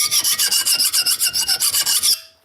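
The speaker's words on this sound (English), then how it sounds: "it's making nowhere as much noise when I'm filing it" A hand file rasps across a clamped spiked tomahawk with a rag on the tooth, about fifteen even back-and-forth strokes in a brisk steady rhythm, loud and close, then stopping.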